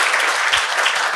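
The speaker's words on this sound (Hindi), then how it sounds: "ताली बजाओ इसके लिए यार, बहुत सही रन बजाया।" Students in a NEET toppers talk session applaud a fellow student, a brief burst of dense, steady clapping from a crowd.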